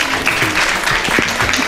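An audience claps steadily and densely throughout at a home-makers' stage show in Kolhapur, a continuous, fairly loud wash of many hands with a few sharper claps near the end.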